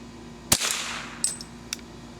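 A Marlin Model 60 rifle firing at a target: one loud sharp shot, then two lighter cracks follow at uneven spacing, close and outdoors with a short ringing tail.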